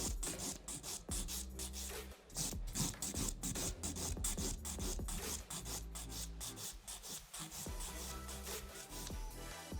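An acrylic nail is filed in quick repeated strokes, a close, dry rasping scratch with a steady rhythm that pauses briefly once, and no voices.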